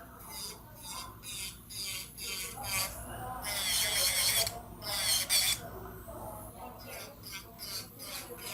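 A 100 by 100 grit nail file rasps against a long coffin-shaped nail in quick, repeated strokes, with a louder, denser stretch of filing near the middle before the strokes turn short and choppy again.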